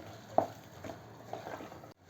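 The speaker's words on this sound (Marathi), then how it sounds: "यालाही मिक्स करूयात आता चांगलं दोन मिनटं मसाल्यामध्ये म्हणजे चांगलं परतवायचं याला पण" Potatoes and peas being stirred and sautéed in masala for masala khichdi, a soft, low frying sizzle with a few scraping stirs of a spoon, steady and close, no voices.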